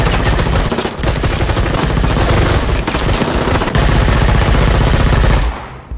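Sustained automatic gunfire from a firing squad in an action film, loud dense bursts of rapid shots continuing for about five seconds before cutting off abruptly.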